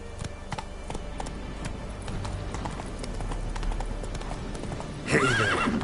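A horse in a PS4 video game gallops with rapid, steady hoofbeats, then gives a loud neigh near the end; a brief voice is heard.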